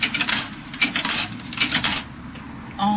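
Coins clatter out of an automatic bartender drink machine in Japan as change, a run of bright metallic jingles and drops spread over about two seconds, close by, with no talking.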